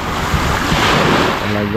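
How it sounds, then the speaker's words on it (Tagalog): Strong wind and surging waves batter a small wooden boat during a sudden squall at sea, a loud continuous roar with gusting wind noise buffeting the microphone. "Talagang nabutan ng subasko."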